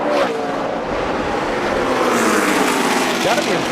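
NASCAR stock cars at the 2011 Wonderful Pistachios 400 roar in a steady, loud engine drone as three cars battle for position, with race commentary running over the noise.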